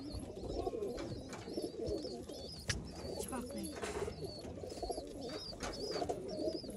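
Old-line pigeons in Bangalore coo repeatedly in soft, rhythmic phrases against a low, muffled background hum, fairly quiet and steady throughout.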